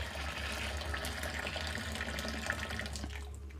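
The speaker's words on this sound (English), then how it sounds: "So the kettle's boiled, we shall stop it there, pop it in, we'll just pour it into our dextrose here and dissolve it." About 2.5 litres of just-boiled water pours from a kettle onto dextrose for an extract-brewed Australian bitter, a steady close splashing gush that tails off near the end.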